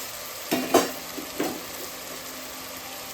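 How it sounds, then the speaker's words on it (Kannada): Mushrooms fry in oil with ginger garlic paste in a pan, giving a low steady sizzle broken by a few brief stirring scrapes and clinks of a utensil against the pan. "ಮಶ್ರೂಮು ಸಹ ಎಣ್ಣೆಯಲ್ಲಿ ಸ್ವಲ್ಪ ಫ್ರೈ ಆಗಬೇಕು"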